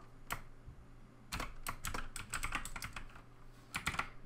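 Bursts of computer keyboard typing come in quick, uneven clusters of close, crisp clicks, broken by short pauses, with no talk over them.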